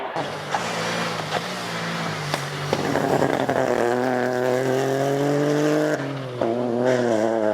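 A Ford Fiesta rally car on a stage accelerates hard, its engine rising in pitch through the gears with a loud, close, buzzing roar and a brief dip at a shift.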